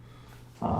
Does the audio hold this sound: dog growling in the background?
yes